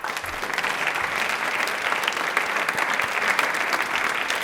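A studio audience on the Rajasthani television quiz show Prashnottari gives a sustained round of applause, a steady, moderately loud rush of many hands clapping with no voices over it.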